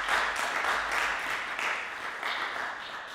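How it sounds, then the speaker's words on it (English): An audience at a school lunchtime concert gives a steady, moderately loud round of applause that carries on evenly with no talk over it. "Can we give the boys another round of applause"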